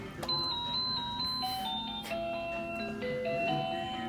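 Electronic chime tones ring out in a supermarket, a sequence of bright sustained beeping notes of shifting pitch over a steady background hum, fairly faint and without voices.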